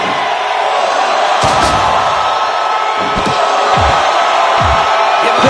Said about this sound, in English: This capacity crowd is solidly behind their superstar.